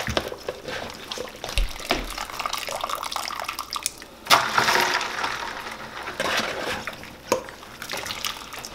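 Blanched squash and hot water poured from a pot into a kitchen strainer, a rushing, splashing gush of water that swells and continues with sloshing and dripping, close and fairly loud.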